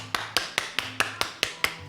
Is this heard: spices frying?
no